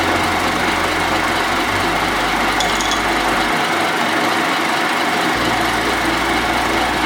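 An old horizontal boring mill takes a light cut on a thick steel slab, giving a steady, loud mechanical drone with a continuous low rumble and a brief change in tone partway through. No voices are heard.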